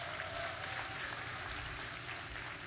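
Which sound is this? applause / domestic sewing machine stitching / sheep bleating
applause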